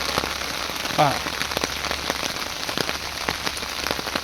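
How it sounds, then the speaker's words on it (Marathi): Heavy rain pours steadily, a dense close patter of drops hitting surfaces with no pauses. "खूप पाऊस आहे, दिवसभर पाऊस आहे"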